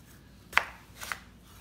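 A knife cuts a ripe homegrown cantaloupe in half, two quick close crunching strokes through the rind and flesh, sharp and loud against a quiet background.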